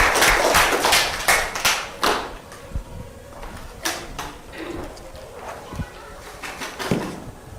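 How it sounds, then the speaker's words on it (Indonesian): Applause for group 4 in a mathematics classroom, with scattered, uneven handclaps close by fading into sparse claps and voices. "kita beri aplaus untuk kelompok 4"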